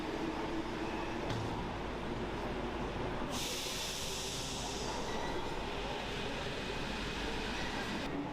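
An empty Paris Metro Line 14 train pulls out of Saint-Lazare station with a continuous roar and rumble of wheels on rails. A bright hiss joins partway through as it leaves.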